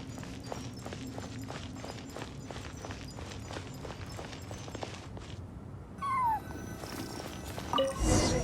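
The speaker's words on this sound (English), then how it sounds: "I followed the cat's cries to find my way out." A cat meows in a video game, a few short mewing cries toward the end, after a long stretch of steady, rhythmic clip-clop footsteps.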